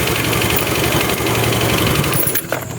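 A Honda Vario carburetor scooter engine runs steadily up close, low on oil and with its radiator not yet filled, giving a dense rattling, knocking idle that keeps on throughout before faltering near the end.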